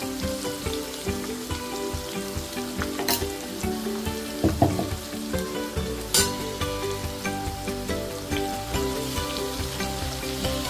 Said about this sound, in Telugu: ఇదే నూనెలో ఇంకా అల్లం వెల్లుల్లి పేస్ట్ కూడా వేసేసుకుందాం.